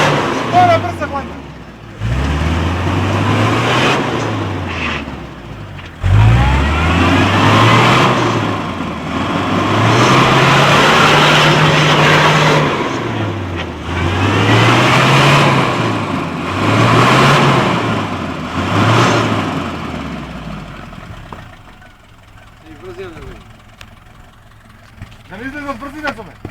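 An off-road 4x4 climbs a steep, muddy uphill, its engine revving loudly in repeated rising and falling surges close by, then idling lower at the end while people talk.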